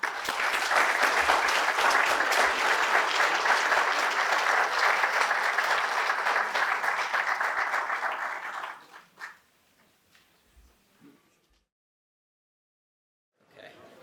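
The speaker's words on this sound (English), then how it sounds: "One more round of applause, please." An audience at a talk on Finland's history and culture gives a long, full round of applause that fades out, followed by near silence with a few faint stray sounds.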